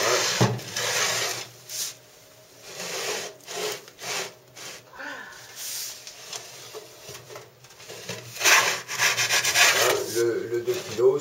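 A bread knife saws back and forth through a large, four-day-old 2 kg loaf with a firm crust, giving close, rough rasping strokes that swell and fade in an uneven rhythm with brief pauses between them.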